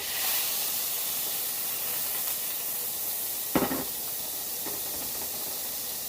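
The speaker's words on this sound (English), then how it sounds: "I'm gonna pan sear these steaks for about, just so I get a good little color on them" Steaks sear in a very hot pan with a continuous broad hiss and sizzle, moderately loud and close, broken once by a short clunk partway through.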